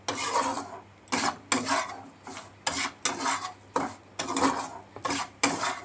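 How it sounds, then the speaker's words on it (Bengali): A spoon scrapes and rasps through semolina and vegetables in a pan, heard as repeated close, gritty strokes in an uneven rhythm with short pauses between them. "সুজি দিয়ে এবার সবজির সাথে একসঙ্গে একটু নাড়াচাড়া করে নিচ্ছি"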